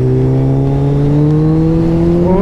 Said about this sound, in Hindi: फर्स्ट टाइम मैंने बाइक इतनी तेज चलाई है